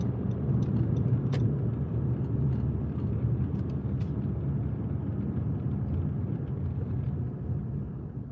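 A car cruises along an open desert road at night, its engine and tire roar a steady, loud rumble close by that continues without a break.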